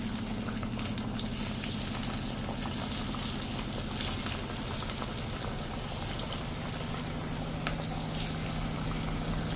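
Dhebri double-frying in hot oil over a full flame until crispy, a steady dense sizzle and bubbling that holds at an even moderate level throughout, with no voices.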